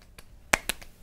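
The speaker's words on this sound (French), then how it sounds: "je m'auto-applaudis, je me permets" A few sharp hand claps as a person applauds themself, two distinct bright smacks close to the mic with softer taps around them, in a quiet room with no talking.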